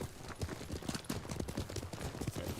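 Steady, rapid horse hoofbeats in the video game Ghost of Tsushima clip-clop along in an even trotting rhythm, fairly close and continuous throughout.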